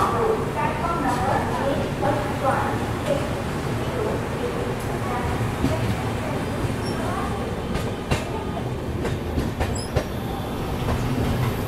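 A double-decker train on Indian Railways pulls out of Arakkonam Junction. Continuous rumbling rail noise and clattering wheels carry on throughout, with scattered sharp squeals and clicks, and voices murmur in the background.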